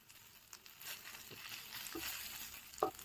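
Whole spices, green chili and poppy seeds frying in a pan, a faint continuous sizzle and crackle with a few small pops and stirring clicks, quiet and close.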